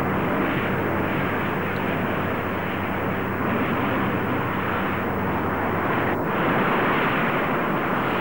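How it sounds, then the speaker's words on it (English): A modified B-45 jet bomber takes off and flies in 1955 with a loud, steady roar of engines that holds without break, overlaid by wind rush and no voices. "this historic film shows the modified B-45 taking to the air on May 20th, 1955"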